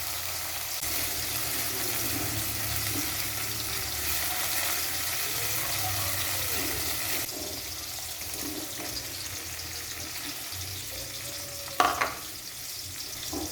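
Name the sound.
stir-frying chili and shallots in a pan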